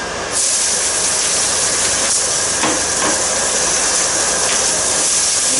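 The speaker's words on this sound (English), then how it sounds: "Get things really smoking hot. I'm going to add these vegetables." Vegetables hitting smoking hot olive oil in a pan give a loud, steady broad hiss of sizzling that flares in at the start and carries on without pause, with faint clicks of movement in the pan.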